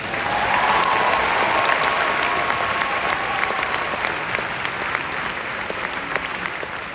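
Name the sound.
applause for the marshals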